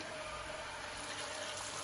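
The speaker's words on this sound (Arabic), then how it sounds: "راح نضيف المي الحار" Hot water poured steadily into a cooking pot while making Najafi qeema, a continuous rushing splash that stays even and fairly loud throughout, with no voices.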